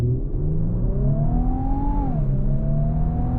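A 2025 Infiniti QX80 Autograph luxury SUV accelerates in sport mode, its engine note climbing smoothly, easing briefly at a shift, then pulling on steadily and loud from inside the cabin.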